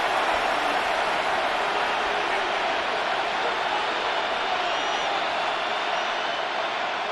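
A packed stadium crowd in a Madden NFL 26 American football game between the Chicago Bears and San Francisco 49ers roars in a constant, hissing wall of cheering that holds steady throughout.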